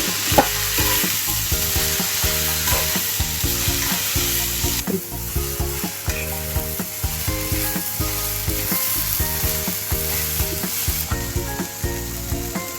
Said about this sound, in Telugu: పోపు వేసాక ఒక నిమిషం ఇలాగా మంట మీదే ఇలాగా వేపించండి